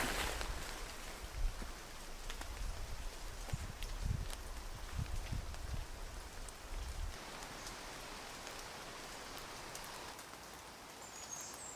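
Steady rain patters on a woodland campsite after days of wet weather, a soft even hiss with occasional low thuds and heavier drops early on, faint and continuous with no voices.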